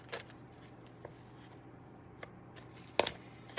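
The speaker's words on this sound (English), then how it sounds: "I use scissors I don't really care about getting adhesive on them. And I'm going to trim it around from the back side." Scissors snipping through adhesive-backed craft paper, trimmed from the back side: several sharp, close cuts scattered over a few seconds, with a louder crisp snip near the end and quiet pauses between.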